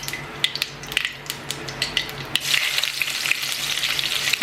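Curry leaves and mustard seeds crackle in hot refined oil, a close, busy sizzle with sharp spitting pops that thickens into a steady loud fry partway through.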